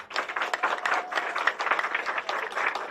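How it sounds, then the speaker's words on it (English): Rotary club members applaud at a charter celebration, a brisk, steady patter of many hands clapping at moderate distance, fairly quiet but continuous across the moment with no speech over it. "can I hear some round of applause,"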